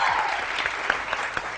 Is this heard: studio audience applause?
yes